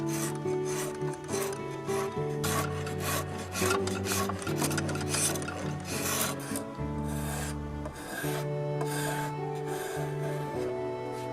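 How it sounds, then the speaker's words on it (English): Microplane and spokeshave scraping over carved wood with a swirling grain, repeated rasping strokes in an uneven rhythm, close and fairly loud, with tonal music playing underneath. "All these marks will gradually be smoothed out by microplane and spoke shave activity."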